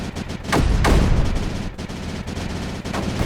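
A mortar unit fires in the video game Creeper World 4, with dense, continuous booming and crackling bursts layered over a loud, steady game soundscape.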